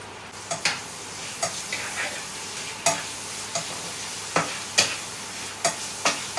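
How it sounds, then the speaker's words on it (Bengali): Onions fry in a pan over a raised flame while a spatula stirs them, with sharp scraping taps at an uneven but regular pace over a constant close sizzle. "পেঁয়াজগুলো আমি দিয়ে দিচ্ছি এবার এক এক করে।"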